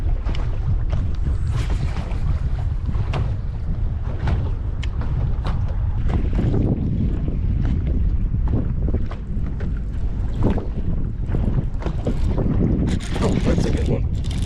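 Strong, gusting wind roars across the microphone during a fishing boat ride on Lake Guntersville, loud and constant with buffeting bursts and water noise beneath.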